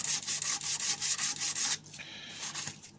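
A Nerf blaster is sanded by hand with 240 grit sandpaper, giving rhythmic back-and-forth rubbing strokes, close and fairly loud, about ten even strokes, then a few lighter, softer passes.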